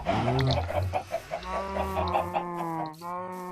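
Minecraft chickens cluck repeatedly in quick, overlapping bursts, a busy close flock of game fowl sounds that continue throughout with no pauses.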